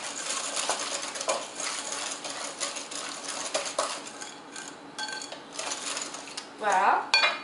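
An egg is beaten with a whisk in a bowl while making cinnamon and white chocolate cookies, giving a fast, continuous metallic clatter and scraping against the bowl, close and steady, with a few brighter clinks near the end.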